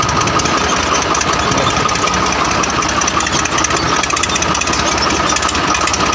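A Swaraj 735 tractor's diesel engine runs with its silencer removed, giving a loud, raw, rapid chugging clatter that stays steady and close throughout, with no voices.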